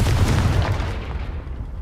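The Confringo explosive curse spell in Hogwarts Legacy lands as a heavy, close boom with a deep rumbling burst that fades out over a second or two.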